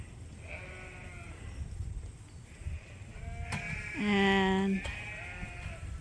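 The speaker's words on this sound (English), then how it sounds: "this is a really, really, really nice bunch of rams here" Sheep rams penned on a farm bleat several times, with wavering calls and one loud close bleat near the end, while someone talks quietly in the background.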